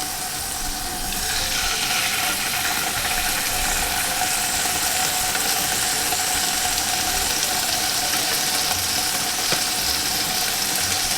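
Steady, dense sizzling of pork chops frying in a crowded pan, continuous and close, with a faint watery crackle running throughout and no talking.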